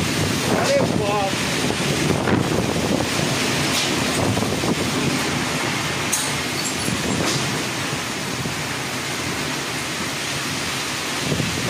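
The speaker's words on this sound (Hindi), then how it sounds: "खतरनाक आंधी तूफान बारिश भयंकर वाला आया है," Strong, steady wind from a violent storm with heavy rain roars and buffets the microphone throughout, with rushing gusts and a rumbling low end.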